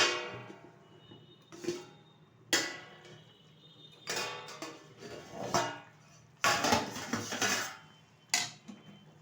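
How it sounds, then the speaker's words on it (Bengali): Metal pot lid clanks and scrapes as it is lifted off a cooking pot of fish curry with potato and cauliflower, several sharp clattering hits spread across the span, close and fairly clear. "ঢাকনাটা তুলে দিচ্ছি"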